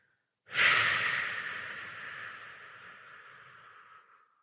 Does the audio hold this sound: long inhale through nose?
yes